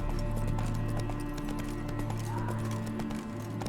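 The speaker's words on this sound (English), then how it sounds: "Spooking my horse." Horse hooves clip-clop in a steady rhythm in The Witcher 3: Wild Hunt, close and clear over ambient game music and low background tones, with a faint voice in the mix.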